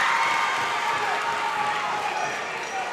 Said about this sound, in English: Crowd on both sides starting to get into this one